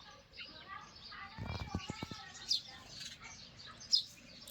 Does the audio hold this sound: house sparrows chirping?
yes